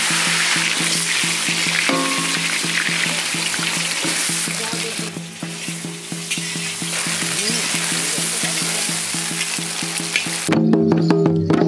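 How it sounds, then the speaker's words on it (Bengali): Potatoes frying in hot oil for a Bengali cauliflower and bhetki fish curry, sizzling steadily and loudly for the whole stretch with brief stirring clatter, close to the pan and with no talk. "আলু ভেজে নেব"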